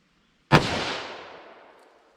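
A single shot from a .327 Magnum snub-nose revolver with a 2-inch barrel, fired single action: one sharp, loud crack that stands alone and then trails off in a long, fading echo.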